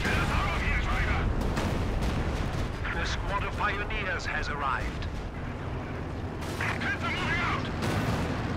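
Rocket barrage artillery fire in Company of Heroes 2 on the Port of Hamburg map, a loud sustained rumble of launches and explosions with whistling streaks overhead, bursts swelling in the middle and again near the end.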